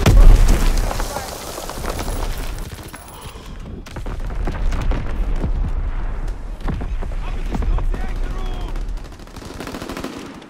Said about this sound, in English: Enemy mortar fire incoming!